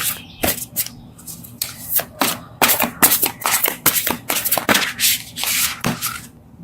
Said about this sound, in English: these cards are so big, they're hard for me to shuffle